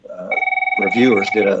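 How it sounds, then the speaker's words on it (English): A phone rings in a meeting room with steady electronic tones, loud and continuous, first alone and then underneath a person talking. "sorry about my phone."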